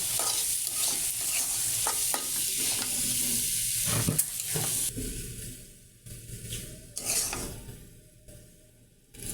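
Cooked soybean curry scooped out of a pan, a metal spoon scraping and clinking against the pan in irregular bursts over a steady, low sizzling hiss, close and fairly loud.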